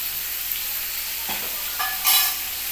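Turmeric, salt and sugar fry in a pan, giving a steady close sizzle with a few brief scraping stirs and a louder hiss flaring near the end, no voices.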